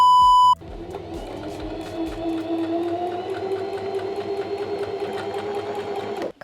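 Sewing machine stitching a hem onto a pair of jeans, a close, steady whirring drone of rapid stitching that starts after a brief electronic tone and runs without pause until it stops at the end.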